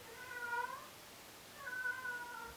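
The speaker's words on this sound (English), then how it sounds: "Can you guys hear my cat right now? Because it sounds like she's dying" A cat meows twice, drawn-out, wailing calls separated by a short pause, fairly faint in a quiet room.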